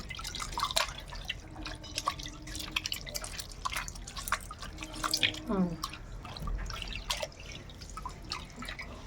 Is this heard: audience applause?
no